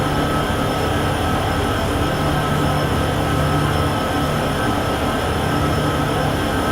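Simulated Union Pacific or BNSF freight locomotives rolling along in Train Sim World 6, a loud continuous engine drone with steady rail rumble and faint wheel squeal, no voices.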